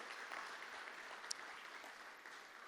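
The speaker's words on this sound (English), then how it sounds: "Give them a nice round of applause and thank them for all of their support." Faint, distant applause fills a hall at a sports hall of fame induction ceremony on homecoming weekend, a soft continuous patter honoring supporters.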